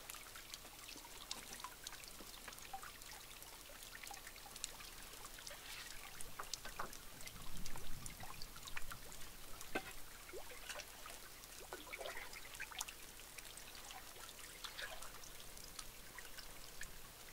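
Faint creek water trickling and flowing in a remote woodland park, a soft continuous wash with scattered small splashes and drips, quiet and steady throughout with no talk.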